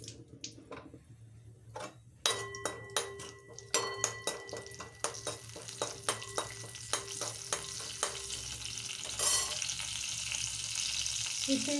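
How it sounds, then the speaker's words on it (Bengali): Cumin seeds tempering in a little hot oil in a kadai wok, giving a quiet sizzle broken by a series of sharp crackling pops that settle into steady frying. "কড়াই একটু তেল দিয়েছি, তাতে একটু জিরে ফোড়ন দিয়েছি।"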